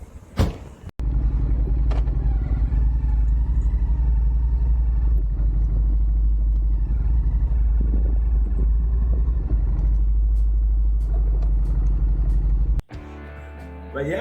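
Honda Shadow motorcycle engine running steadily while riding, a loud continuous low rumble that holds for most of the stretch with no talk, cutting off abruptly near the end.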